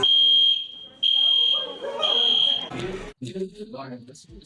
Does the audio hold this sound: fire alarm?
yes